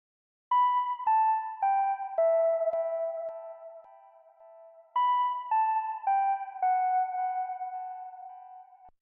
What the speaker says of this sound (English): that's going to give us that big kind of swelling reverb that you hear